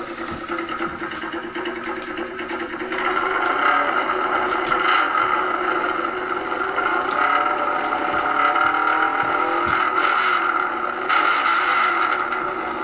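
Exhaust on a restored Yamaha FZR cafe racer runs steadily near the mic, rising in intensity after a few seconds and holding a raspy, sustained drone throughout.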